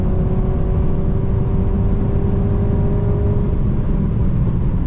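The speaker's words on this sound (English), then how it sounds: "This is the de-restricted section, so let's put the throttle on. Sport Plus mode." A Mercedes C-Class in Sport Plus mode on a de-restricted autobahn section accelerates hard with a loud, steady engine whir and tonal drone rising over heavy road noise.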